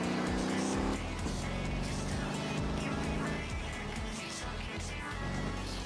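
A car speeds along a road and overtakes slower traffic, its engine a steady loud roar with shifting pitch as it passes other vehicles, a faint voice briefly present.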